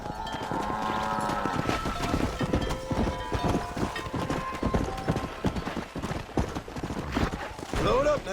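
Horse hooves clip-clop steadily across open ground in the Western video game Red Dead Redemption, a brisk rhythmic trot that runs throughout, with game sounds and occasional voices layered over it.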